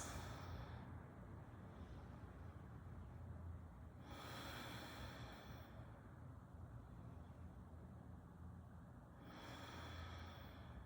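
Slow, deep breathing during a gentle yoga session, soft long inhales and exhales rising and falling in a calm rhythm, close and quiet with no speech.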